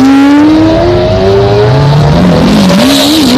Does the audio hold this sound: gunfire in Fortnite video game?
no